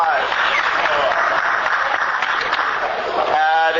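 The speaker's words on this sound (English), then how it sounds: "All right, round of applause." A lecture audience bursts into steady, dense applause that continues for several seconds before a voice starts speaking at the end.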